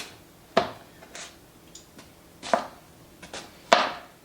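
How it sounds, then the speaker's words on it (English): A knife dices an onion, giving a few sharp, separate chops spaced about a second or more apart, close and fairly loud with quiet gaps between strokes. "we're just gonna dice up this onion so it's about the same size as the potato"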